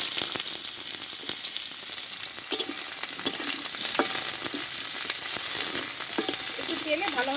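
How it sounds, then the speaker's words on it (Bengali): Drumstick stems stir-fried in a little oil in a wok: constant close sizzling and crackling fills the whole stretch, with frequent clicks and scrapes of a spatula tossing the pieces, and no voices. "একটু তেলে ভালোভাবে একটু ডাটাটা কষে নেবো"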